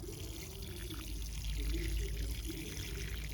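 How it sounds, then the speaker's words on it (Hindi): Water is poured into a potted tulsi plant with fertiliser in the soil, a steady close splashing and gurgling flow that lasts the whole few seconds and swells slightly in the middle. "ये हमने इतना पानी डाल दिया"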